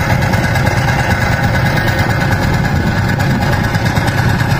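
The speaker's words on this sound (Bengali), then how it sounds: "এই পাওয়ার টিলার দিয়ে জমিতে চাষ দেওয়া দেখতে" A power tiller engine ploughing a muddy paddy field chugs steadily and loudly, a close, continuous mid-pitched rumble throughout.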